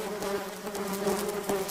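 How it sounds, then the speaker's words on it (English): Bees buzz in a bedroom, a dense steady drone close by that holds at an even level throughout with no talk. "Holy fuck, there's bees in the room, let's get out."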